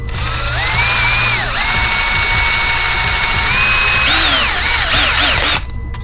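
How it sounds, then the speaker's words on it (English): A power drill whines loudly and close, its pitch rising and holding as it bores a hole in a Jeep, wavering near the end before cutting off abruptly. "we're going to drill a hole with this bit"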